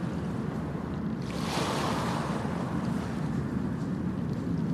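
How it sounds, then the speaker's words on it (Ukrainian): Wind-driven waves wash steadily across choppy open water where stand-up paddleboards drift, a continuous close roar of surf and wind that swells briefly about a third of the way through. "Здіймалися хвилі та сап постійно зносило."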